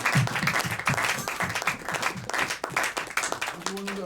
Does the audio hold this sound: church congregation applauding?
yes